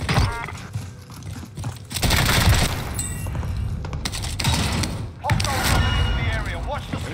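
Sustained automatic fire from a CX-9 submachine gun in Warzone on Rebirth Island, dense rapid bursts with booming impacts that keep going almost without pause, while a player talks over the shooting.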